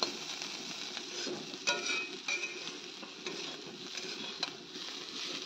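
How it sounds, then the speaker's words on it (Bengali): Potatoes cut for frying cook in a small amount of oil in a home kitchen, a close, steady sizzle broken by stirring scrapes and light utensil clinks, with no talking. "এখন এখানে আমি এই যে আলু ভাজাটা এদিকে আগে বসিয়ে দেব"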